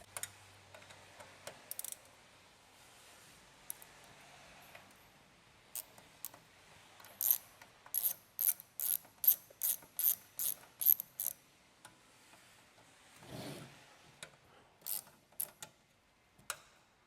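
Ratchet backing out two bolts from the back of an H2 Hummer gauge cluster, soft background clatter followed by a steady run of close, crisp ratcheting clicks, then a few scattered clicks and handling noises, no talking.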